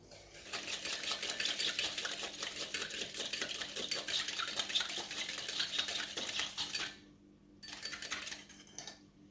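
Sushi rice is stirred and folded in a bowl, with rapid close clinking and scraping that runs for several seconds, breaks off briefly, then returns more quietly. No one speaks.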